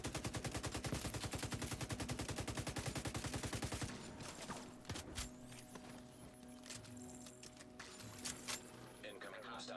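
Rapid automatic gunfire in the shooter game The Division 2, a fast even burst of shots for about four seconds, followed by scattered single shots and thuds with a voice talking over the quieter stretch.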